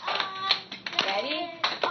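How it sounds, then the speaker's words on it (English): Hands clap in a lively children's session led by an adult, sharp claps landing among overlapping talk from the group, a few strong slaps standing out over the chatter. "the first thing we're going to do is clap"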